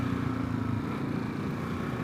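A 2022 Kawasaki KLR650 Adventure single-cylinder engine held at steady revs while the rear tire spins on wet ground, a continuous droning rumble close by with no pauses.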